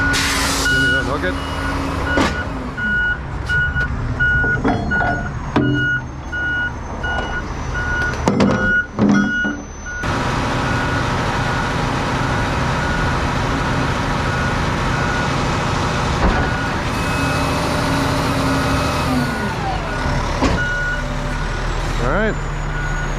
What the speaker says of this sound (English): That's all it takes to load and unload one of these dumpsters from these trucks.